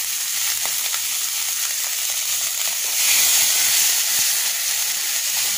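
Spiced masala paste with salt, turmeric, chili powder and tomato sauce frying in a pan while being sautéed, giving a steady close sizzle and hiss that swells louder midway.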